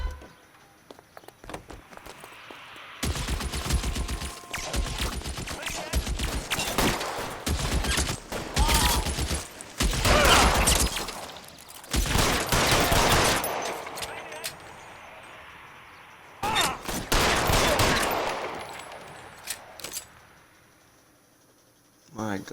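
Rapid bursts of gunfire from an L.A. Noire shootout crack in dense volleys, loud and close, with short pauses between clusters and a steady high insect-like hiss underneath.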